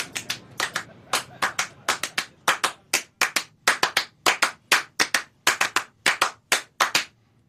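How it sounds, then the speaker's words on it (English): Hand clapping performing Steve Reich's Clapping Music, a body-percussion piece from 1972: a close, crisp train of sharp claps in a steady pulse with irregular groupings and short gaps, loud and clean with no voices. "Clapping music was composed in 1972"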